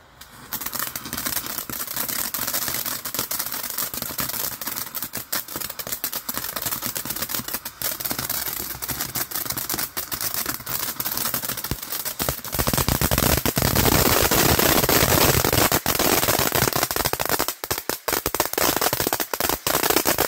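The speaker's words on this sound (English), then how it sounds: "Smoke bomb just ended." A camo smoke bomb firework burns outdoors with a continuous loud, crackling hiss full of rapid popping bursts, growing louder and denser partway through and running steadily for about twenty seconds, with no talking.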